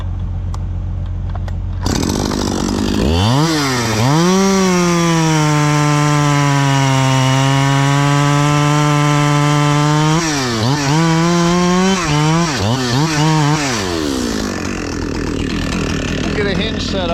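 Chainsaw revving up and cutting a limb off a log, a loud steady engine whine that rises, holds through the cut, then dips and surges a few times before easing off.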